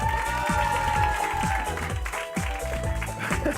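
Audience clapping at a quiz night, dense and steady across the whole stretch, with crowd murmur and a voice carrying over it.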